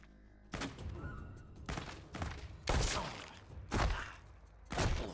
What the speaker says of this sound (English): Who's shooting me through the fucking tent?